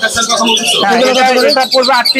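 Caged birds at the Mirpur 1 bird market in Dhaka chirp and coo in a dense, continuous chorus, with pigeons or doves among them, close and fairly loud under steady nearby talk.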